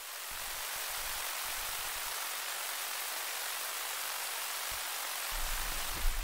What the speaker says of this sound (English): this is hard rain at note C4.